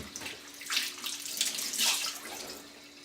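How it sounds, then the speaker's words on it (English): Running tap water splashing over a washcloth being rinsed in a sink, a close, continuous hiss with surging splashes as the cloth moves under the stream; no talk. "I rinse my washcloth, get all the dirt off"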